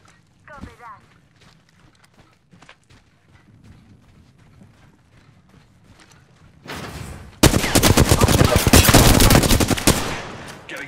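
Automatic gunfire rips out in a dense, loud burst of rapid shots during Apex Legends gameplay, lasting several seconds. Quieter footsteps and game sounds come before it, and voices speak in the background.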